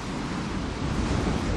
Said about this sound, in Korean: 거센 바람이 불어닥치는 제주 특별자치도.